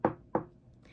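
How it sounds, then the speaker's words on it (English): Two sharp knocks on the wooden door of a small cottage, close and distinct, with a short pause between them and then quiet. "knocked on the door."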